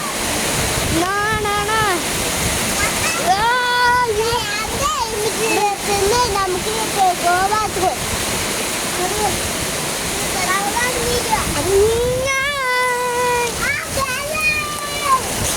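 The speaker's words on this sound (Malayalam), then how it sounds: "മഴ തെറിക്കുന്നുണ്ട്." Rain blown by wind splashes in a loud, continuous rush that lasts the whole time, while a person talks over it.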